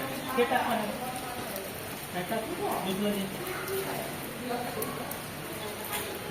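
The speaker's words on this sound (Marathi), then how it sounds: "तुम्ही काय लावलं बॉम्ब लावलाय काय विरू पावसामध्ये फटाके फोडायला" Rain falls steadily through a Diwali night, a soft continuous patter under people talking, with faint pops of firecrackers set off in the wet.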